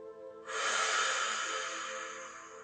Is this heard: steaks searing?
no